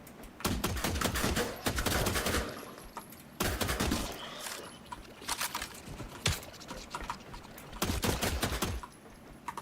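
Bursts of rapid automatic gunfire from a gun in the video game The Last Caretaker come in several loud volleys separated by short pauses, with no talk over them.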